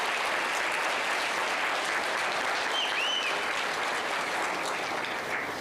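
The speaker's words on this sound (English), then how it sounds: "can we give Minister a big," A conference audience in Free State Province gives the Minister a big round of applause, dense steady clapping that stays loud and even throughout.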